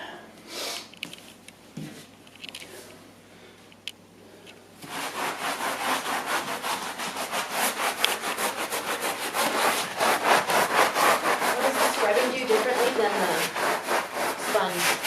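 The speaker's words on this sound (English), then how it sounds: "once I get a good little amount of the foam in there, then I'm going to give it a good scrubbing" A brush scrubs dry encapsulation foam into an area rug with fast, steady back-and-forth strokes. Close and loud, the strokes begin after a few quiet seconds of light handling noise.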